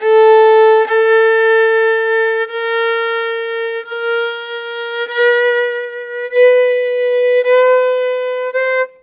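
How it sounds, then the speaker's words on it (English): A single sustained bowed or reed-like tone slides through a series of quarter-tone pitch steps, each shift barely higher than the last, played alone. "Quarter tones would sound like this."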